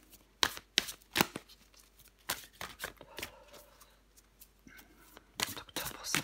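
Tarot cards shuffled and drawn by hand in a quiet room: a series of crisp riffling slaps and snaps at an irregular pace, each close and sharp, with softer sliding and handling rustles between them and no talking.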